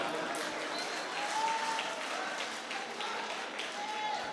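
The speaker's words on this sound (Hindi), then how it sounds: "सिर्फ उधर से ही तालियां आ रही है" Scattered audience applause at a mushaira poetry gathering, soft and somewhat distant, with a faint continuous wash of clapping and crowd murmur.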